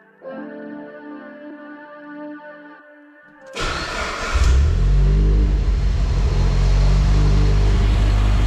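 A turbocharged car engine, just repaired after a turbo drain leak, fires up after a brief quieter mechanical hum, then settles into a loud, steady low rumble that runs without voices.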